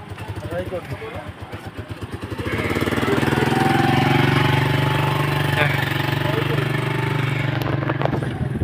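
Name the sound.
bike engine idling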